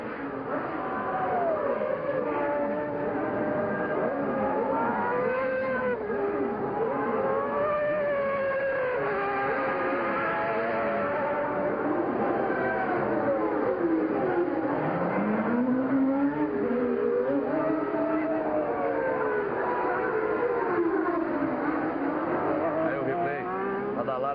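Formula 1 cars racing at the 1990 Brazilian Grand Prix, a steady roar of high-revving engines with rising and falling pitch sweeps as cars pass, heard continuously through the whole stretch.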